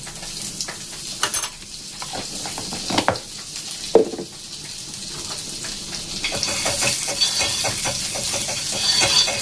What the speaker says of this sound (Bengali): এই যে এখানে একটা তাওয়া বসিয়েছি, একটু ফুল গরম করে নিলাম, দিয়ে একটুখানি বাটার ব্রাশ করে এখানে দিয়ে দিলাম।